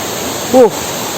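Water from a mountain stream and fountain near Gunung Sawal rushes as a steady broadband wash throughout, with a brief voice cutting in midway.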